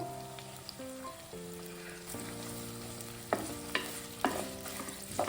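Mushrooms fry in a pan for a curry, a steady soft sizzle with occasional scrapes and knocks of the spoon as they are stirred, and music playing underneath.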